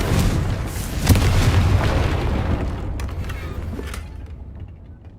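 A Confringo fire spell bursts in Hogwarts Legacy on PC, a loud boom that swells around the one-second mark and then rumbles and fades over several seconds, with creaking debris and scattered crackles trailing off.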